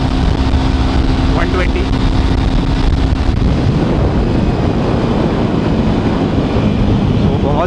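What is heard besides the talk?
Jawa 42 motorcycle top speed run with wind blast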